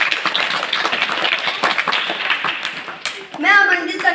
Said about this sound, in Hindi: एक बार जोरदार तालियां शानी पांडे के लिए।